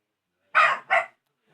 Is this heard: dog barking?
yes